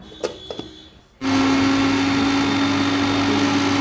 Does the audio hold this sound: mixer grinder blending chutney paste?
yes